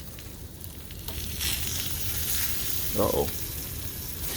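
Food sizzles steadily on a hot grill with onion nearby, a brief scrape and louder hiss around the turn, while someone speaks briefly under the frying.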